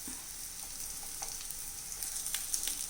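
An egg, vegetable and bread pancake fries in a pan with a steady, soft, close sizzle and crackle and a few small pops, and no one is talking.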